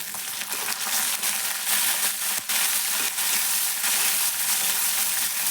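Tomatoes added to a pan of fried onion and curry leaves sizzle steadily and loudly, a dense continuous crackle with occasional stirring clicks and no voices, while a cauliflower bhaji is cooked.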